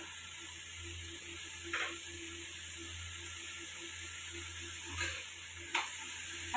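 Chopped bottle gourd sautéing with salt and turmeric in a pan, a soft, steady sizzle with a few brief scrapes and stirring knocks, no voices.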